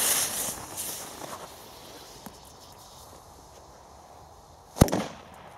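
A single sharp China Böller C black-powder firecracker bang from Pyroart cracks out after a few quiet seconds of faint outdoor rustling, loud and abrupt, with a short fading tail.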